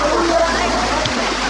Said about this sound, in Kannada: ಸೊ ನಿಮಗೂ ಒಂಚೂರು ನೀರು ಹಾಕ್ತೀನಿ